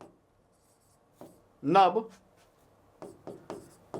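A marker or pen scratches across a board in short separate strokes during a current affairs lesson, close and dry, with a voice speaking between them.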